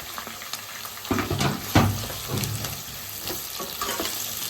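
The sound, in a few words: onion and capsicum frying in a pan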